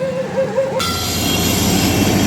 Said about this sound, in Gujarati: કુંભારવાડાના રેલવે ફાટકથી ટ્રેન પસાર થઈ રહી છે